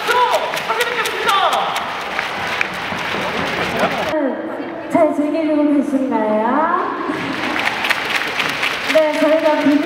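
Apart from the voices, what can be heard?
fans applauding at baseball stadium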